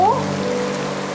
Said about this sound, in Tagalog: Umuulan, anak, oh.